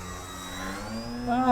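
The electric motor and propeller of a Durafly Gloster Gladiator RC model biplane drone steadily and then rise in pitch and loudness as it flies by outdoors in wind, with a voice talking over it.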